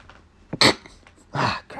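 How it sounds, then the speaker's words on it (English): A single sharp sneeze bursts out close by, followed a moment later by a second loud, breathy burst, with quiet pauses around them. "I'm about to sneeze."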